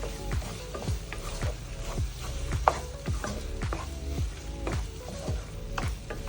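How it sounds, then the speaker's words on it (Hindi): Keema, minced meat, being stir-fried in a pan with potatoes to follow, giving a steady near sizzle broken by regular scraping strokes of a spoon, roughly two per second, with one sharp metallic clink midway; no talk. "अब इसकी 1-2 मिनट के लिए भुनाई करेंगे।"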